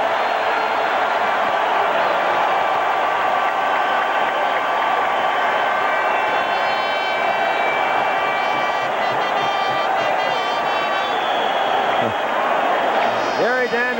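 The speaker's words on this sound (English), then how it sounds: "Listen to the crowd." A football stadium crowd at a 1985 Pittsburgh Steelers at Cleveland Browns game roars in a steady, dense wash of cheering that swells across the whole stretch, with a broadcast announcer talking over it.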